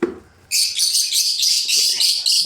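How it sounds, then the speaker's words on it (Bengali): Pet birds kept in nest boxes chirp in a rapid, continuous stream of high, bright calls, close and fairly loud, after a short low sound at the start. "দেখেন পাখিগুলো কত সুন্দর।"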